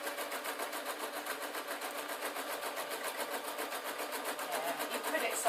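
A sewing machine stitching thick canvas for a denim-style skirt, running at a fast, even rhythm of rapid needle strokes, close and steady throughout with a slight rise at the end.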